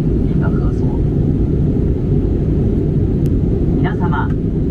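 Steady loud cabin rumble of an airliner on final approach into Narita International Airport, a dense low roar filling the whole stretch with faint clicks and tones near the end.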